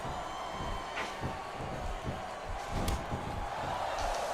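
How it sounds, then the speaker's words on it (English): A capacity arena crowd in the Smackdown vs Raw 2007 wrestling video game keeps up a steady, distant roar of murmuring and cheering, with a few faint thuds underneath. "It sounds like this capacity crowd has something on their minds, Taz."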